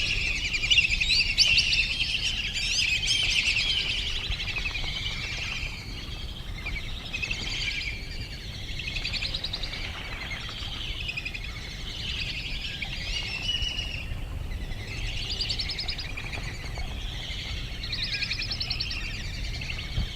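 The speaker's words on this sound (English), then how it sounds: "And that sound you hear? Those are black-belly whistling ducks." Many high, thin whistling calls of black-bellied whistling ducks chatter continuously over soft background noise, with no voices.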